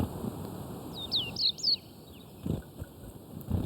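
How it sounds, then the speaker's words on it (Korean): Small varied tit (곤줄박이) calling in a winter mountain forest at Bongamsa temple, where birds come to eat scattered rice: a few quick, high chirping notes in short bursts over faint wind and low rustling. "곤줄박이도 봉암사의 한 식구다."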